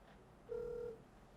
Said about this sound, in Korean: 전화를 해보겠습니다.